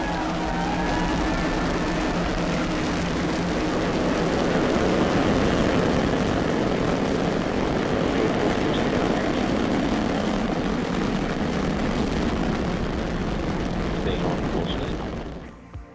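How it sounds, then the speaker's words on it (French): A SpaceX Falcon 9 rocket lifts off, its engines making a loud, continuous rumbling roar that stays steady and dense for many seconds before cutting off abruptly at the end. "Liftoff of the Falcon 9."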